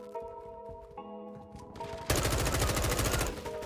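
Automatic weapon fire in Modern Warfare 2 breaks out midway as a loud, rapid, sustained burst after quieter tonal game sounds, with no one talking.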